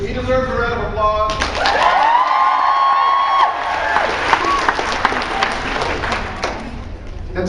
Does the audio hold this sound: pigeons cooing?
no